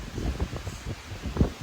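Strong wind gusts buffet the microphone beside the Missouri River in South Dakota, a low rumbling roar that swells and eases in uneven bursts.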